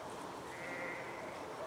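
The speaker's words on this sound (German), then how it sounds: "Im Hintergrund Schafmähen" Sheep parked beside a forest bleat faintly in the distance, with one drawn-out bleat rising above a soft outdoor background.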